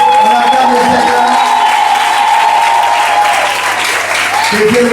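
A church congregation applauds to acclaim the Lord, with steady, dense clapping that carries through the whole stretch at a loud, even level, a sustained tone ringing underneath.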